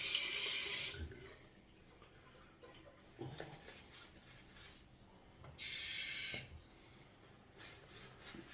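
Running water from a sink tap for shaving lather with wool fat soap, two loud bursts of flowing water separated by quieter rubbing and dripping sounds, close by.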